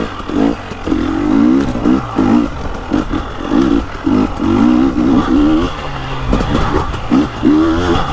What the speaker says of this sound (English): these engines, look at, they just growl down to nothing.